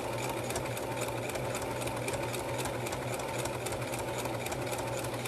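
A sewing machine runs steadily through a slow decorative stitch on fabric for a reusable coffee sleeve, its rapid mechanical chatter continuous and close with no talk.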